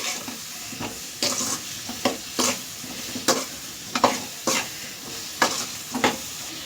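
Eggplant gravy stirred in a sizzling pan, about ten rhythmic spatula scrapes recurring roughly every half second over a constant low frying hiss, heard close with no speech.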